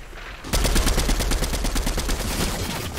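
Gunfire in an online multiplayer video game match, a loud sustained burst of rapid automatic shots that starts abruptly and keeps going.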